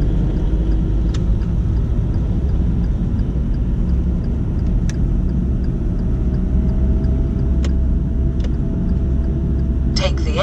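Car cruising along a road during a practical driving test, a steady low engine and road rumble running throughout with faint higher ticks, fairly loud and even.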